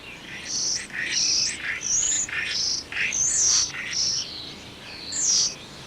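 Busy starling song with a rapid stream of whistles, chirps and rattling notes, continuous and fairly close over a soft background hiss.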